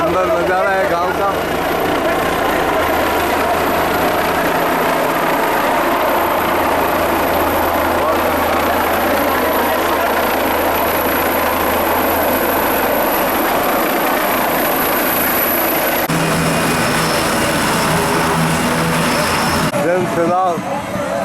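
A helicopter arrives at the village of Bambu in a rural setting, its steady engine and rotor roar loud and continuous for nearly the whole stretch with crowd chatter mixed in, then cutting off abruptly near the end.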